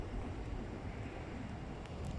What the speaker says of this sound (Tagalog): At least dito sa bridge malakas ang hangin.